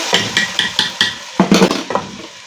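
A series of sharp metallic clinks and scrapes of a spoon against a pot of nihari, with a brief burst of sizzling midway as a tadka tempering is added, close up and without speech.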